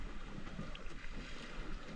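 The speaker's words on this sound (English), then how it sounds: "we're at about 4 miles an hour wind right now, which is pretty light" Light wind while sailing a boat on Lake Conroe, a faint, steady rush of breeze and wind buffeting on the microphone with soft water noise beneath.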